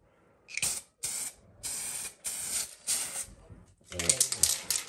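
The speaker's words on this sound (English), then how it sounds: "So we'll go ahead and shoot that on there. And I'm just using a 1K clear and just a real light dust coat." Short hissing bursts from a spray gun laying a light dust coat of 1K clear on a hood latch, five separate blasts then a longer uneven spray, close up.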